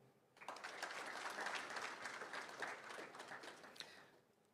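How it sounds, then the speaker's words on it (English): Audience applause for Estonian panel members at the Maldives 2.0 launching ceremony, sustained clapping from a crowd that starts abruptly after a quiet moment, stays even for several seconds, then tapers off at a modest level. "Please extend a round of applause to all the panel members from Estonia."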